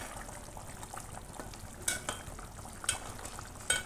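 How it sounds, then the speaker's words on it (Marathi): A pomfret fish curry, Agri Koli style, is stirred gently in a pan, giving soft scrapes and several louder spoon strokes over a faint, steady sizzle, with no talking. "याला थोडंसं हलक्या हाताने थोडंसं एकजीव करूया"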